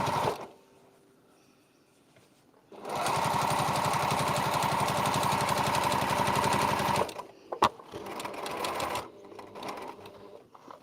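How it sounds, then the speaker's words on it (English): Sewing machine stitching a straight seam to the corner of a quilting piece, a loud steady rapid whirring hum for about four seconds after a quiet start, then stopping, followed by a click and brief handling noises. "And now we're going to sew straight to the other corner."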